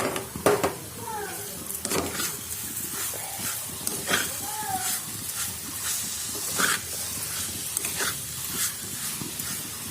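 Carrot halwa with sugar is stirred in a pan, a spoon scraping in irregular strokes over a soft sizzle and hiss, close and moderate, with faint background chirps.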